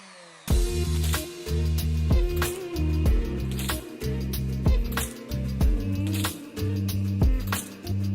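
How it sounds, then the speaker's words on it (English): A router roars in repeated bursts, each lasting about a second, rising and dropping as it passes back and forth flattening a slab, with brief pauses between. "So the router just rides on these 2 pieces of wood, and I can move it around to cover the entire slab."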